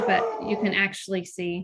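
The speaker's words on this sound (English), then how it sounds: "sorry about the dog" Dog barking and whimpering indoors, with short yips and whines overlapping a person talking in the foreground.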